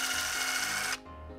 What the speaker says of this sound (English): I think I probably just need to drill that until it pops through.